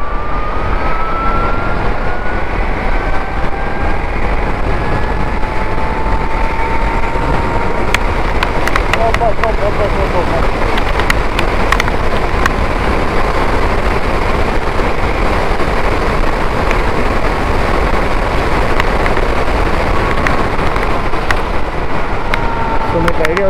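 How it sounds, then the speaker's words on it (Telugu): An Ultraviolette F77 Mach 2 Recon electric motorcycle accelerates on the road, its faint rising motor whine sweeping upward beneath a steady, loud roar of wind rushing past. "జస్ట్ బండి యొక్క యాక్సిలరేషన్ ఏ రేంజ్లో ఉందనేది"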